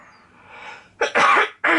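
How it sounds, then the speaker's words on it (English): A person sneezes indoors: a soft breathy build-up, then a sharp burst and a longer explosive release, followed by a second short burst, close and loud. "I'm gonna sneeze."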